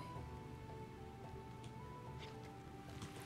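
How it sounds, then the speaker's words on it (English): Steady rain falls inside a house in the video game Shroud of the Avatar, a constant soft patter with a few faint drips and a low tonal hum beneath it. "it's still raining in the house"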